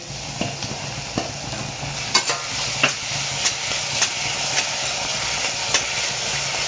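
Tomatoes fry in a pan for zunka, a Maharashtrian dish, giving a continuous loud sizzle punctuated by regular sharp scraping taps of stirring.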